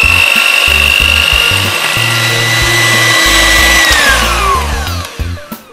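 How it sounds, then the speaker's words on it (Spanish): An electric hand whisk beating eggs with sugar for a lactose-free yogurt sponge cake, a loud close motor whine shifting pitch in steps as the beaters work the bowl, with no voices. "y ahora vamos a batir con batidora de varillas los huevos con el azúcar."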